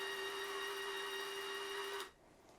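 A RILAND MIG flux core welder's wire feed motor runs with the trigger held, a close, steady high-pitched whine that cuts off abruptly near the end, leaving faint background hiss.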